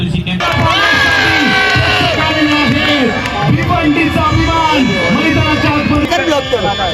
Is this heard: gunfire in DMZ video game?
no